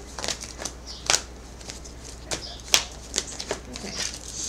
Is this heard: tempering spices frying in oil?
no